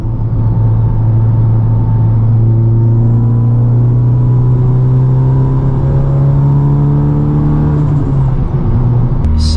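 A big-turbo Honda Civic Type R engine drones loudly at a steady pitch, then its revs sweep and shift in a rising, falling pattern near the end, heard from inside the car, continuous and close.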